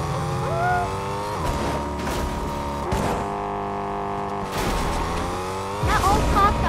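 Cars in the Fortnite video game driving with boost, a steady engine drone with rising revs and occasional tire squeals, fairly loud and continuous.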